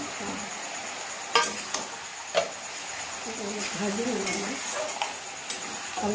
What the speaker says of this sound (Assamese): এতিয়া গেছটো অকণমান বঢ়াই লৈ এইখিনি মায়ে ভাজিব অলপ দেৰি